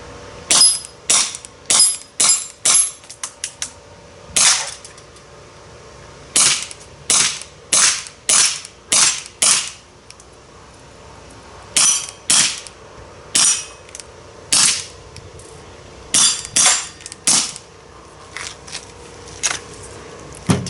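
An ASG CZ 75 D airsoft pistol fires a long string of sharp, snappy shots close by, in quick irregular bursts of several with short pauses between, crisp mechanical cracks with nothing else heard.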